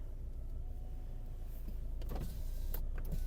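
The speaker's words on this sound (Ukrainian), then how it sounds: "склопідйомники працюють" Electric power windows on a Skoda Octavia 1.9 TDI whirring under a steady low background hum, with a few small clicks toward the end.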